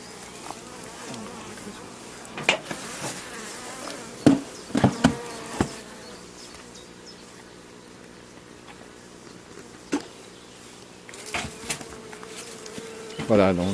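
Honey bees buzz around an opened beehive, a continuous close hum with individual bees passing near, broken by scattered knocks and handling sounds from working the hive.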